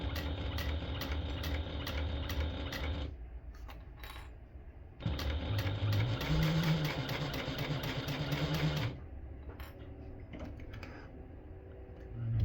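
A sewing machine stitches a seam on a small tote bag in two long bursts of fast, steady mechanical whirring, separated and followed by quieter pauses with light clicks and handling; no talk.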